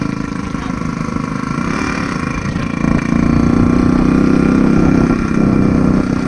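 Yamaha RX 100 motorcycle engine running while ridden on a road, a steady loud mid-pitched drone that swells slightly partway through, with no talking.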